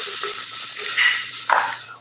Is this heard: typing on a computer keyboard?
no